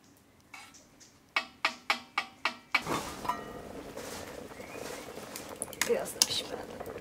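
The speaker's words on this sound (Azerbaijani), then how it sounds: "Keçirəm göbələyi doğramağa." A knife chops mushrooms on a board in a quick run of five or six crisp, evenly spaced strokes, followed by softer, scattered clatter and kitchen handling noise.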